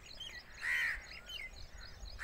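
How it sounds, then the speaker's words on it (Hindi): A crow perched in a tree among greenery in the morning gives a single short caw, clear but moderately faint against quiet outdoor background, with another call starting at the very end. "ये कौवा भी बैठा हुआ है।"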